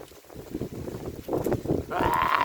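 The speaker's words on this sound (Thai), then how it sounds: "ลมโวยๆ" Wind gusting across an open rice field, a steady rumbling buffet on the microphone that swells louder toward the end, with faint voices beneath.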